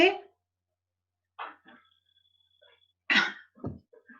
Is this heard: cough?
yes